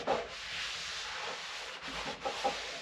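A rag rubbing excess stain off a wooden surface, soft close swishing strokes with a few brief scuffs.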